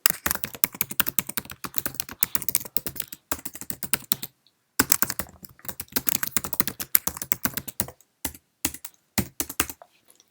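An email being typed on a computer keyboard, with quick bursts of crisp, close keystrokes broken by short pauses and a brief silent gap midway.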